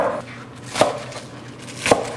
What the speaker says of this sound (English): And you chop it up into small pieces